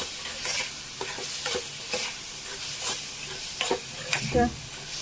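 Khubba masala is stirred in a hot pan, with steady frying sizzle under repeated scraping strokes of a spoon and a louder clatter near the end.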